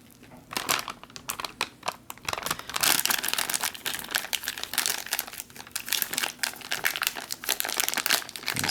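An MRE pouch for meatballs in marinara sauce is crinkled and folded shut by hand, producing loud, close, continuous plastic crackling and rustling with dense irregular bursts throughout.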